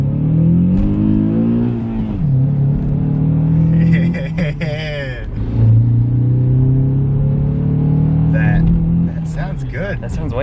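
A Honda Accord CL9 engine with its intake resonator deleted revs up and down several times, loud and close, with people talking over the engine noise.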